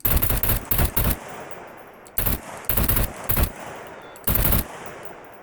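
Automatic gunfire bursts from SCUM, fired from a seated vehicle position, sounding as several loud, sharp rapid-fire volleys separated by short pauses.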